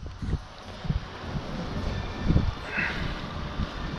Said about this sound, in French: Il y a toujours ce vent qui est quand même fort persistant.